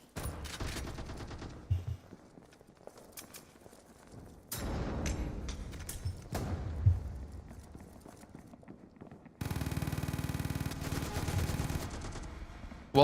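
Video game gunfire from players shooting through walls in a competitive league match, bursts of rapid shots and rattling fire in stretches, with louder sustained firing near the end and no speech.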